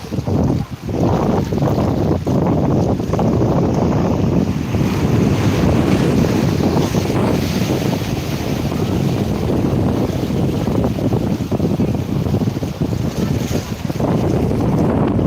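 Sea waves surge and wash at Digha beach by a river mouth, a loud constant roar mixed with heavy wind buffeting the microphone.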